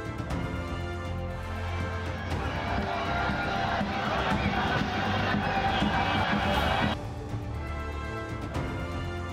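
A large crowd cheers and shouts to celebrate Team India's T20 World Cup win, a dense continuous roar that swells before it cuts off sharply near the end, with voices mixed into the noise.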